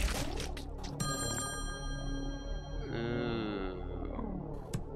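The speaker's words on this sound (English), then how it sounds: "Nobody's there to answer the phone, so that doesn't work." A telephone rings in the puzzle horror game Slayaway Camp, a bright, sustained electronic trill cutting in after a second over rumbling game background sounds, loud and close, with a lower warbling tone joining near the end.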